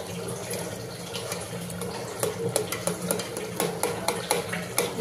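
Steel spoon stirring and breaking kachri pieces in a cooking pan, giving a steady sizzling, scraping bed with irregular sharp clinks and taps that grow more frequent toward the end, close and moderately loud with no talk.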